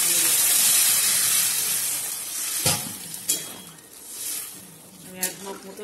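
Water poured into a pan of frying spice paste for a Bengali tilapia fish curry, a loud sizzling hiss that fades into bubbling, with a few sharp spatters and clinks of stirring.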